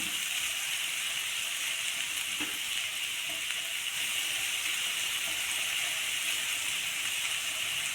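Onions sautéing in a pan for an all-in-one gravy, a steady close sizzle and hiss holding level for the whole stretch with no talk over it.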